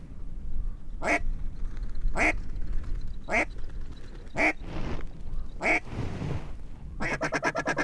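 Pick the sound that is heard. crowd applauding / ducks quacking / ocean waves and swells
ducks quacking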